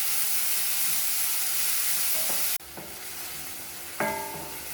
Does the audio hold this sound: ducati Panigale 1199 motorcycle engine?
no